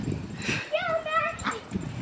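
A dog playing tag indoors lets out a short whine and yelp among scuffling movement, close by, while people talk over it.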